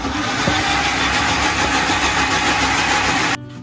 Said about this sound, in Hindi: अब हम इसमें शामिल करेंगे 2 टेबलस्पून योगर्ट और इसको अच्छी तरह से ग्राइंड कर लेंगे